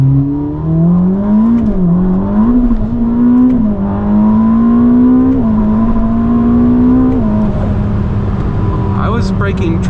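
A Ferrari SF90 hybrid supercar accelerates hard from inside the cabin, its engine note climbing through several rising sweeps between gear changes as the wheels break traction, loud and close throughout.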